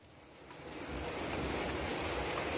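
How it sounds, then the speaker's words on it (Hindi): Heavy rain falls steadily over a village in the rainy season, a dense hiss that swells after the first second and holds constant, with no distinct thunderclap and a faint high tone above it. "बादल बहुत ज़्यादा अभी भी गरज रहे हैं, बारिश बहुत शदीद हो चुकी है।"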